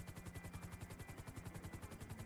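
A police helicopter hovers over the area in a GTA roleplay game, its rotor beating in a fast, steady rhythmic thump that stays loud and close throughout, with no other sounds.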